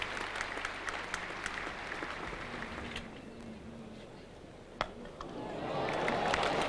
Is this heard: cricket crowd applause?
yes